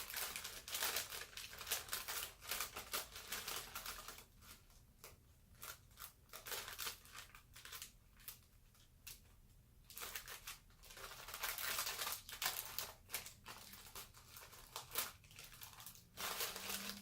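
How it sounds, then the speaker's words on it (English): Hot glue being peeled slowly off paper, giving dry crinkly crackles and small tearing bursts in uneven spurts, close and fairly quiet, with brief pauses between pulls. "I'm pulling on the paper on the inside, and then I'm just pulling with my left hand the glue bits, just very gently to kind of unstick it"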